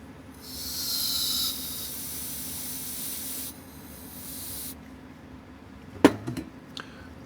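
Short bursts of canned air hiss while drying freshly cleaned parts from a Seiko 5625-7040 watch, one fairly steady blast followed by a quieter second spray, then a few light clicks and taps of handling.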